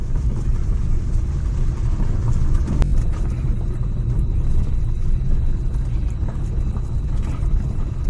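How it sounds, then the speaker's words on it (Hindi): Steady low rumble of a vehicle rolling along a dirt track at night, with constant wheel and engine noise and an occasional faint click. "गाड़ी के पहियों की आवाज"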